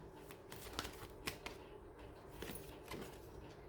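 Tarot cards are shuffled by hand in faint, close riffles and soft slaps, a few irregular bursts over a quiet background with no talking.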